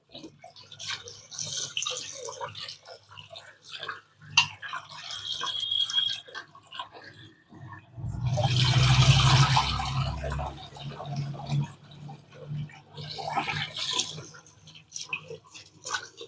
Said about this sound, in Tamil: ஃபஸ்ட்டு தண்ணி விட்டு ரேஸை அலசிட்டு நம்ம தண்ணியை வெளியே ஊற்றிடணும்